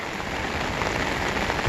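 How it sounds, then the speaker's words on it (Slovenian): Heavy, steady rain pours down outdoors near the Šoštanj lakes, a dense, even hiss of drops drumming on surfaces that holds constant throughout without letting up. "fajn močno dežuje, ne popušča"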